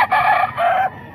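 A rooster crows close by, a loud drawn-out call in two strained bursts that cuts off abruptly, with faint background noise.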